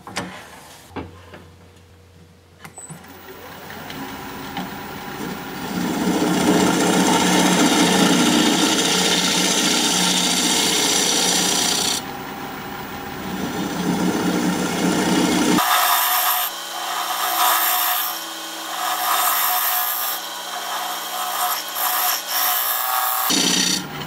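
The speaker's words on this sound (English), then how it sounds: "Now I'm going to use my recess tool, put a dovetail on the edge of this." Recess tool cutting a dovetail recess into pepper wood spinning on a lathe, a close, continuous scraping hiss over the motor's hum, shifting tone partway through as the cut changes, then tapering into rougher rasping.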